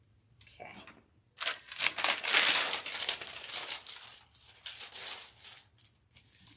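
A plastic bag is cut open with scissors, giving bursts of close crinkling and rustling with short pauses in between, fairly quiet.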